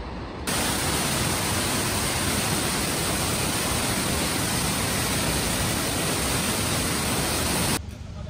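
The Mandakini river rushes below a Kedarnath trek path in a loud, unbroken broadband roar of churning water that holds steady throughout and cuts in and out abruptly.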